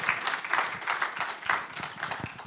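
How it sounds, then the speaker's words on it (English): Brief audience applause for three presenters at the close of a World Ozone Day clean-air session, with individual claps distinct in an uneven rhythm, fairly close and modest in size. "join me to give another round of applause to our three presenters"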